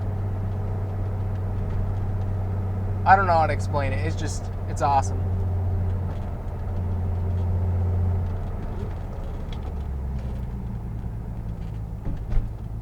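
Steady low exhaust drone from a Datsun 280Z restomod while driving, a continuous near rumble running under an excited voice talking over it.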